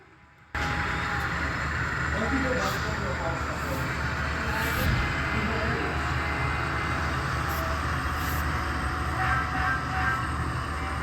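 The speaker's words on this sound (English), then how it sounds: "Really cool little locomotive and mine cart." A small model locomotive pulling a mine cart runs along a detailed hobby layout at an open house, giving a steady, continuous mechanical rumble and whir after a brief quiet start, with nearby voices murmuring underneath.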